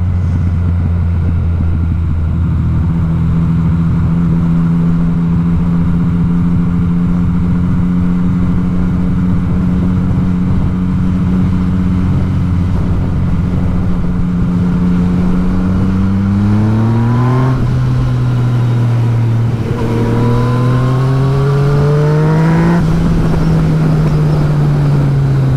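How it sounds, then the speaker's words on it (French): A Yamaha MT-09 motorcycle engine drones loud and close at a steady pitch while riding, then revs up and down in several rising surges toward the end, with wind noise and no talk. "La MT-09 c'est vraiment un moteur qui demande qu'à s'exprimer quoi."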